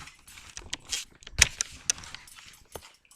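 Dogs react in a home kitchen with short whimpers and yips, scattered among metallic jingling like keys, as a few close, sharp bursts over quiet gaps.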